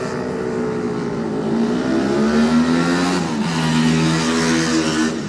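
A Honda superbike sets off at the start of a Classic TT superbike race, its engine revving and climbing through gears with wavering pitch, loud and close, other bikes' engines droning behind it.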